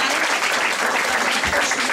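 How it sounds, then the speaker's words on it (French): Guests at a regional Miss pageant committee gathering applaud warmly, a brief dense wall of clapping from a sizeable crowd, loud and unbroken throughout. "j'aimerais bien qu'on l'applaudisse"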